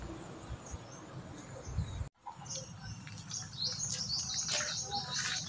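Small chick chirping in short, high-pitched repeated peeps, fairly close, over a low rumbling background with a brief dropout in the middle.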